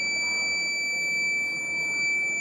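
A smoke sensor alarm from a school's smart smoke alert project buzzes continuously with a steady high-pitched electronic tone over soft room hiss and no talking.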